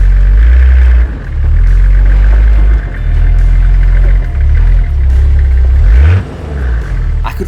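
A Toyota Land Cruiser on an off-road overland expedition revs hard in repeated loud surges, easing off between pushes of throttle as it crawls at a steep sideways angle up a bank.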